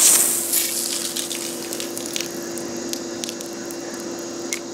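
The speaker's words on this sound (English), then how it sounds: "let out your water by always spraying it at your house" A garden hose sprays water against the wall of a house, giving a steady hiss that starts louder and then settles into a continuous, even rush with small fluctuations.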